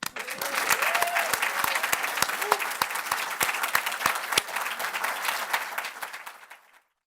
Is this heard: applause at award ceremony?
yes